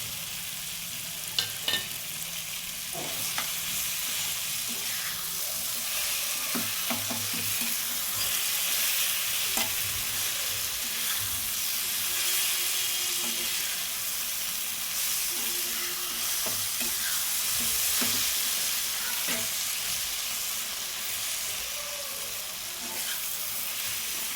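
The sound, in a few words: rohu fish heads frying with garlic in oil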